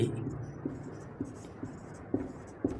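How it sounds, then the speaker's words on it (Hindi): Chalk or marker writing on a board during a physics lesson, a few short scratchy taps and strokes spaced irregularly, close and fairly quiet with a low background hum. "हम लिखेंगे यहाँ"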